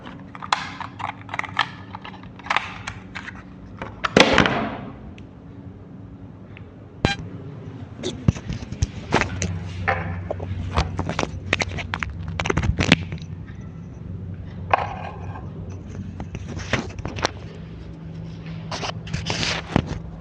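A microphone is handled and swapped, with scattered knocks, clicks, scrapes and rustles coming close and irregular over a quiet background.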